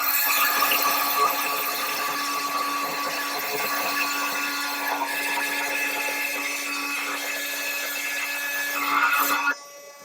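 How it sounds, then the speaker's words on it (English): Milwaukee Nitrus Carbide oscillating multi-tool blade cuts through stainless steel screws with a steady, loud buzzing grind for nearly the whole span, stopping abruptly at the end. "Now here's stainless steel. Just light pressure at the blade, let the tool do the work."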